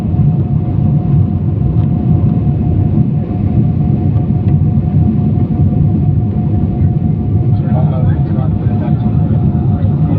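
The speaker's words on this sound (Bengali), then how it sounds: "এই যে বিমান উপরে উঠে গেছে।" A passenger airplane climbs after takeoff, heard from inside the cabin as a loud, steady low-frequency engine roar that holds unchanged throughout, with a person talking beneath it.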